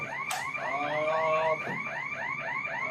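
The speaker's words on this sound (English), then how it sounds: "burglar alarm blares in the background" A store burglar alarm blares continuously with a rapid, repeating warbling electronic siren, loud and steady throughout, with no voices over it.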